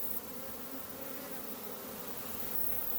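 A captured honey bee swarm in a hot apiary buzzes as an even, unbroken hum, many bees droning together at moderate distance with no voices.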